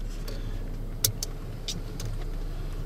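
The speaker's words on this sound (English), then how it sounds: "I'm in the car trying to drive and do this" A car drives along a beach road on the Bolivar Peninsula at Crystal Beach, Texas, its steady low engine and road rumble filling the cabin, with a few faint clicks and small knocks over the drone.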